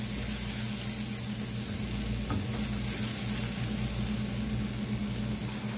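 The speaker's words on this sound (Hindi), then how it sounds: "मसाला हमारा एक मिनट से ऐसे ही भून रहा है" Ground green masala paste fries in a pan for a prawn green curry, giving a continuous close sizzle with a low steady hum underneath and no voices.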